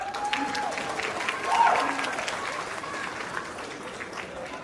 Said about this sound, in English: A round of applause for him as well